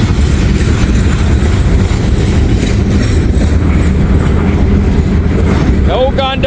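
An old gondola train rolling on rails, a loud, continuous low rumble with rhythmic rail clatter, a brief squeal near the end and someone talking over it.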